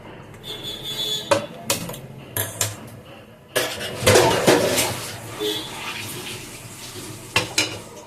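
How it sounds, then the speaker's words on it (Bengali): Metal cookware clanks and knocks in a kitchen as a kadai (wok) is set onto the stove, with several sharp clatters, a gap, then a busier burst of scraping, splashing and clinks, fairly close. "কড়াই বসিয়ে দেব"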